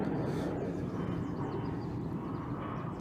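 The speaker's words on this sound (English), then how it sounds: "You can hear the planes." Airplanes fly overhead near a convention venue in Toronto, a steady broad roaring rumble that fills the whole stretch at moderate level without talk.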